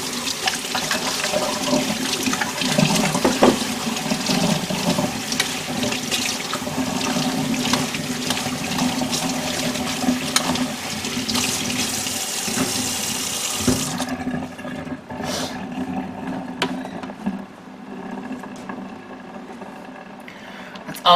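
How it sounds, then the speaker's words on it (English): Hot tap water runs over cheese grater parts in a kitchen sink, a loud, continuous rushing stream for about fourteen seconds before it cuts off, leaving quiet room tone. "run this under hot water"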